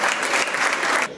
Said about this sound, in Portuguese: Isto é um aplauso para você!